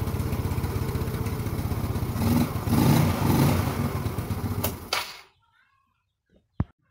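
A motorcycle engine, started without a starter relay or bendix, runs loud and steady with a rough low rumble for about five seconds, then cuts out. A few faint clicks follow in near silence.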